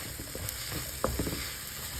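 Okra and egg frying in a pan, a soft steady sizzle with a few faint clinks and stirring scrapes, close and fairly quiet throughout.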